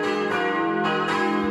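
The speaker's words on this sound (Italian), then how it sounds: "il suono delle campane, questo alto campanile slanciato verso il cielo azzurro" Church bells ring from a tall bell tower, overlapping tolls that blend into a dense, sustained metallic shimmer with a fresh strike coming every fraction of a second.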